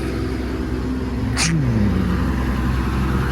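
A John Deere 1158 combine harvester's engine cold-starts outdoors: a brief crank burst, then a steady low rumbling idle that settles and holds.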